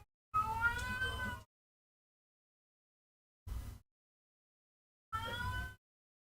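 A cat meows three times with long pauses between, the first cry drawn out and the last two shorter, close and clear against an otherwise silent room.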